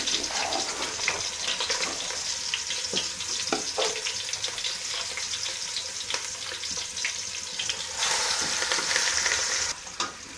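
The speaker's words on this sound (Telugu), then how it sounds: "ఇందాక మ్యారినేట్ చేసిన దాన్ని చికెన్ మనం ఫ్రై చేసుకోవడానికి ఇందులో వేసుకోవాలి" Marinated chicken frying in oil for chicken biryani, a constant close sizzle broken by stirring scrapes and clinks, swelling louder near the end.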